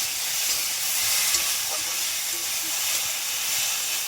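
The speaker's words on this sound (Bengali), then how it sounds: "খানিকক্ষণ ঢাকার পরে আলুগুলোকে ভালোভাবে কষিয়ে নেব।" Potatoes are sautéed in a pan in a home kitchen, a soft continuous sizzle and hiss with light stirring scrapes scattered through it.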